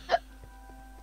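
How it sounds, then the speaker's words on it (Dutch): One loud hiccup from a character in Minecraft, close and abrupt, followed by faint low background sounds. "nu gaat hij hikken"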